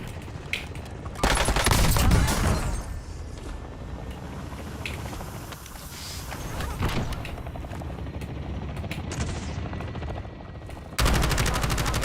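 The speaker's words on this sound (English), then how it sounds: "Incoming shots." Rapid bursts of gunfire in the video game Warzone, loud and close, with sharp volleys near the start and end and steady action noise between.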